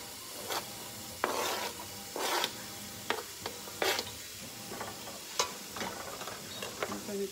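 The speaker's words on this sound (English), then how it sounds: "here is the celery that we're going to put in and let it be sauteing." Celery sautéing in a pan for a seafood fish stew, with a continuous soft sizzle broken by repeated scraping stirs and clinks of a utensil, close and fairly quiet.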